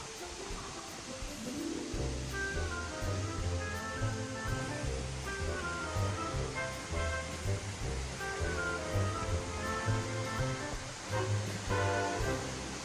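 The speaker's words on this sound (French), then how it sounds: "Seljalandsfoss est une cascade très active" Steady, dense roar of falling water at Seljalandsfoss waterfall in Iceland, continuous and loud throughout with no pauses, like standing close to a powerful cascade.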